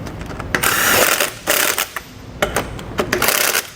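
Lug nuts on a trailer wheel being tightened with a ratcheting wrench; a series of quick mechanical ratchet clicks and metallic clatter comes in short irregular bursts, close and fairly loud, with no talking.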